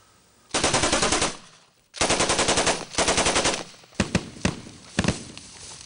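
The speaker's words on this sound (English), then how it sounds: "Costa opened fire." Bursts of automatic gunfire from a Second World War firefight near a bridge, two long rattling volleys followed by several sharp separate shots, loud and close with no voices.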